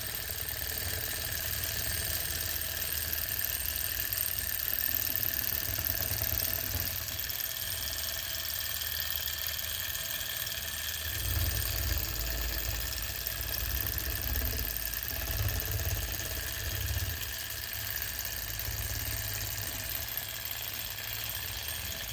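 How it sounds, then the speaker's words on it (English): A small Enjomor Stirling engine, upgraded, runs continuously with a faint steady whir and a high mechanical whine, a low rumble drifting in and out underneath. "just give you another minute or so of looking at this little engine."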